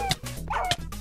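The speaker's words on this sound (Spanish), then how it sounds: "¿Qué clase de perrito es ese?" Dog yips in Minecraft, a few short high-pitched bursts from a game dog close by, set over a steady low background hum.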